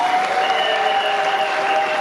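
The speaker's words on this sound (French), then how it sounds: "vous pouvez vraiment applaudir davantage" Steady, dense applause from an audience at a World Red Cross and Red Crescent Day ceremony, sustained and fairly loud for its full length with no voices above it.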